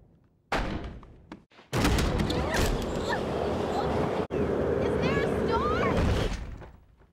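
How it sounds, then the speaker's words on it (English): Stormy banging and thudding from a TV episode of Buffy the Vampire Slayer, a loud sustained burst with sharp knocks and slams over roughly five seconds, with faint talk around it. "I think this is a local storm specifically to her house."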